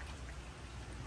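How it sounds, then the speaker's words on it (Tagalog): Light rain falling in a rural province setting, a steady soft hiss of drops across the whole moment, faint and even with no other sounds. "Ayan, umuulan-ulan oh."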